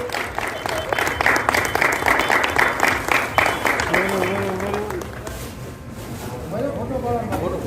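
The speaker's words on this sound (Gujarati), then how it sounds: "જોરદાર તાળીઓથી આપણે બિરદાવીએ મિત્રો." Sustained applause from a gathered crowd at a government office retirement and birthday felicitation, dense clapping throughout with voices talking over it in the second half.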